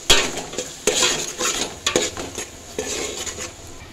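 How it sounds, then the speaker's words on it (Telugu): Ginger garlic paste being stirred into a pot of village-style veg biryani, a utensil scraping and clinking against the pan in repeated strokes with a faint sizzle underneath, close and alone without talk. "ఇదిగో మనం అల్లం వెల్లుల్లి పేస్ట్ వేసుకుందాం. కలిపేసుకోవాలి బాగా."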